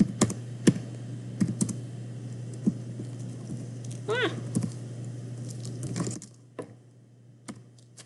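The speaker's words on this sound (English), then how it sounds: "I'm just going to type all that in my calculator at the same time except the pi" Numbers tapped into a calculator's keys in a quick run of sharp clicks over a steady low hum, with a soft chirp partway through, then a few last taps in near silence.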